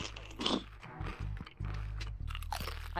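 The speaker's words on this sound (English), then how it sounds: "I can hear someone crunching" Someone crunching potato chips inside VRChat, a close, repeated series of crisp bites and chewing crunches over about three seconds.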